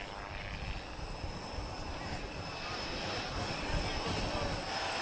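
Yak Stars display team aircraft arriving at the Portugal Air Summit 2022 airshow, a steady droning engine roar that swells slightly as they approach, with crowd and voices faintly underneath.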